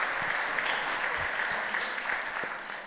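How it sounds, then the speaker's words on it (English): Applause in a state Senate chamber honouring school bus drivers, a steady round of clapping from the gathered members, fairly close and fading slightly toward the end. "if we could just give them a round of applause for what they do for"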